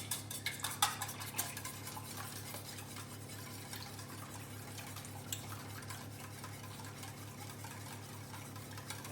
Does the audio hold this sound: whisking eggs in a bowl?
yes